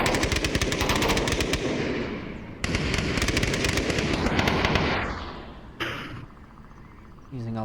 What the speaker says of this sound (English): Shots ringing out onto the valley.